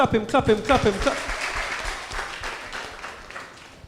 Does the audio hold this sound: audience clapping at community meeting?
yes